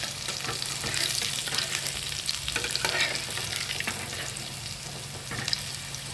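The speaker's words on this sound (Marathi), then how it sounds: "दोन्ही साईडने छान भाजून घ्यायचं आहे" Alu vadi, rolled colocasia leaf slices, shallow-frying in a pan with a steady soft sizzle, punctuated by occasional scrapes and clinks of a spatula turning the pieces.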